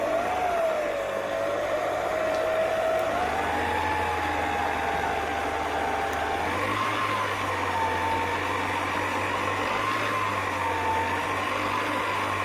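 An electric mixing machine working milk, baking powder and atta flour into biscuit batter, a steady nearby motor whine that climbs slowly in pitch with a constant low hum underneath, no voices over it.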